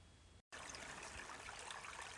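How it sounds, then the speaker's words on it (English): A small mountain spring trickling in dry backcountry on a long-distance desert hike, a steady close, continuous splash and babble of running water with no voices. "Well, I found the spring."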